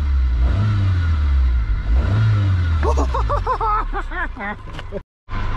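A Civic wagon engine idles with a low rumble, then revs in a series of quick rising and falling throttle blips, close and loud, before cutting off abruptly, while a voice speaks briefly over it.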